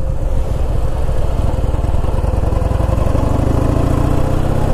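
A Harley-Davidson Heritage Softail pulls in, its V-twin engine loud and near with a steady, deep, throbbing idle that rumbles on without a break.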